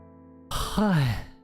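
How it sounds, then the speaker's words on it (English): One person yawns once, a short breathy intake that swells into a voiced, falling groan and then fades, heard close and alone. "I was trying to not to yawn, but I yawned anyways"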